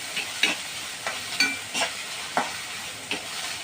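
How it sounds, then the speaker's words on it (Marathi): Onion, garlic, chili and mustard seeds sauté in oil for a shepu besan bhaji, a soft steady sizzle under repeated close scraping stirs of a spoon against the pan, with no talking. "व्यवस्थित तेलात परतून घ्यायचा कांदा."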